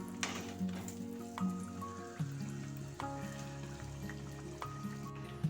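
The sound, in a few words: arisi appam (rice appam) frying in oil after being flipped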